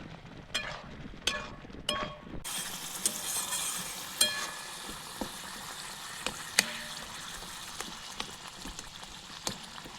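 Green chilies sizzle and fry in a pan of oil for a fish curry, a steady crackling hiss that starts after a few sharp clinks and stirring scrapes and carries on with occasional utensil knocks.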